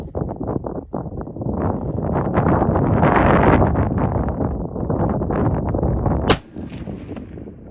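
A CVA Cascade 6.5 PRC rifle with a muzzle brake fires a single shot at an outdoor range in a crosswind. The sharp crack lands near the end, after seconds of heavy wind buffeting the microphone.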